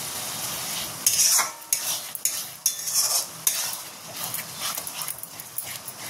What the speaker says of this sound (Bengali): চলো এই মশলাটা একটু ভালো করে কষিয়ে নিই